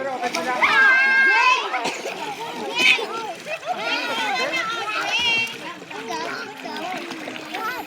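A child splashing while swimming in water, with bursts of splashing spread through the clip, mixed with children's voices and an adult coaxing nearby.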